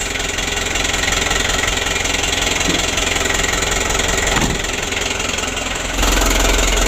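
A 2016 Hino Dutro 130 HD truck engine idling roughly, with an uneven, knocking mid-low clatter that runs steadily throughout and briefly thickens toward the end.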